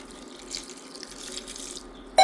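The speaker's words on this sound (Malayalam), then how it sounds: "അതിലോട്ട് ചെറിയ ചൂടുവെള്ളം ഒഴിക്കണം." Warm water pours and splashes over grapes in a bowl as they are washed, a short steady trickling run heard alone, ending with a louder clatter.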